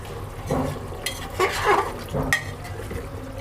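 Dum aloo stirred with spices in a pot: several scraping, clinking strokes of a spoon against the metal over a low background sizzle, in uneven bursts.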